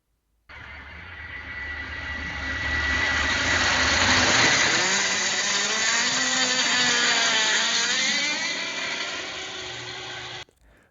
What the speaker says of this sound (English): Let's just try a helicopter flyby.